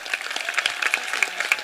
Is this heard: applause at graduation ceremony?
yes